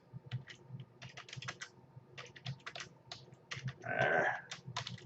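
Rapid bursts of keystrokes on a computer keyboard, clicking in irregular clusters with brief pauses, close and fairly quiet, joined near the end by a short louder rustle.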